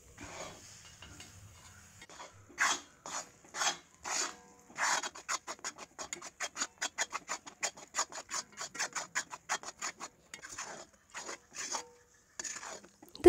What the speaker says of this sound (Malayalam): അതുവരെ നമുക്ക് അടിയിൽ പിടിക്കാതെ ഇളക്കി കൊടുത്ത് വയ്ക്കാം.